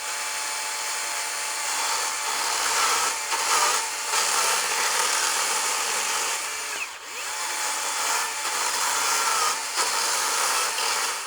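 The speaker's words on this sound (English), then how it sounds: "begin with the smallest piece of wood, 100 millimeters in diameter" A DeWalt DCMCS575 54V/60V cordless chainsaw cuts through a 100 mm diameter log, its motor whining loudly and steadily with brief dips in load as the chain bites, and no one speaks.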